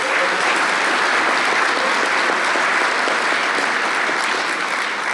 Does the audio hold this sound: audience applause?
yes